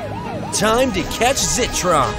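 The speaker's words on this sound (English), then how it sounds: "Police siren!" A cartoon police siren wails in a rising and falling pattern, loud and near, with several overlapping sweeps while a voice speaks over it.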